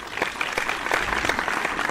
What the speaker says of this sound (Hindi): मैं ये चाहता हूं कि आप कुमार केतकर साहब के लिए ज़ोरदार तालियां बजाएं।